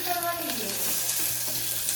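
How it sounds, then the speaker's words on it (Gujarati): Sev tempering in a hot pan, a loud, steady close-up sizzle and crackle of frying that runs without a break. "સેવો ચાલુ કરી નાખ્યું વઘારવા."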